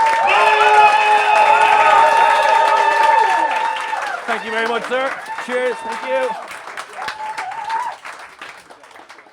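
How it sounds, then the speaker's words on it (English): A comedy club crowd in Dublin claps and cheers as a stand-up comedian takes the stage, the applause sitting under loud walk-on music while someone speaks briefly over it, then fading. "Let's get that round of applause going at the back of the ring."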